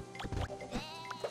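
A single sheep in the Rodeo Stampede video game gives a short wavering bleat, close and clear over a faint steady game background.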